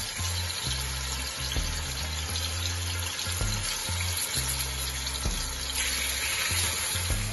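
Oxtail pieces browning in a hot pan for Jamaican oxtail, a steady crackling sizzle with soft periodic thumps and shuffles as pieces are moved, close and moderate in level.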